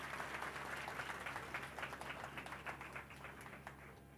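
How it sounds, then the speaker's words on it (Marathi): An audience at a religious discourse gathering in Bhandup claps together in steady, dense applause, heard from a little distance and fading slightly toward the end. "वाजवान टाळ्या बाबांसाठी एकदा."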